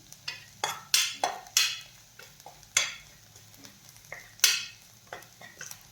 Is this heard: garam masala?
yes